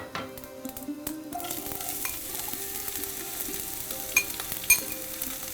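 Mustard seeds frying in hot coconut oil, a steady close crackling sizzle with stirring clatter early on and a couple of sharp pops near the end.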